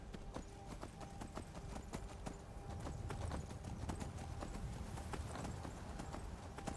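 Rapid, rhythmic clip-clop of horse hooves on a hard surface in Skyrim continues steadily throughout, fairly close and even, with no voices.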